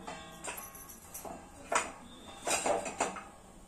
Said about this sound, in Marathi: आपण आता हे मखाणे ताटात काढून घेऊया।